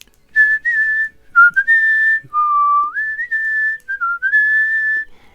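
A single person whistles a melodic tune alone, clear and close, with short phrases separated by brief pauses.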